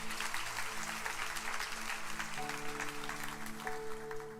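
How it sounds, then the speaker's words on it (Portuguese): A church congregation applauds during a worship service, steady clapping mixed with sustained music tones from instruments, moderately loud and continuous. "Aplauda ao Senhor."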